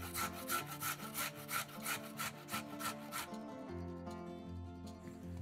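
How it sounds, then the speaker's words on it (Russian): A carrot is rubbed over a coarse grater in quick rhythmic scraping strokes for about three seconds, then the grating stops and only faint background remains. "Одну морковь трем на крупной терке."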